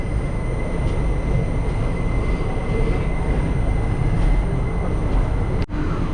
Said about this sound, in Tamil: இன்ஜினை முன்னாடி மாட்டிட்டு வண்டி கிளம்புது